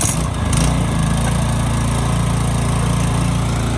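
A new Toro Dual Force twin-blade 223cc 30-inch lawn mower starts on its first pull with no choke or primer, then settles into a loud, steady, close engine drone.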